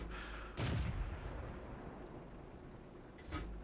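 A tank gun fires in World of Tanks, two heavy booming shots about three seconds apart, each a sharp loud blast with a short rumbling tail over a low engine-like background.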